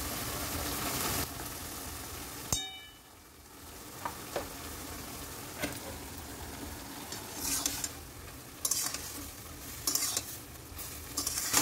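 Food stirred in a frying pan during home cooking after salt, sugar and turmeric are added, a steady close sizzle with scraping stir strokes and occasional sharp clinks of the utensil.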